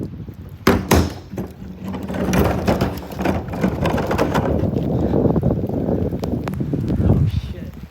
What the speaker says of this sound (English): Oh, look at these winds, man.